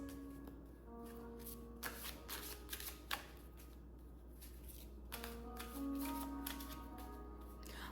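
Oracle cards being shuffled by hand at close range, a soft riffling flutter in several bursts with brief pauses between, quiet and alone.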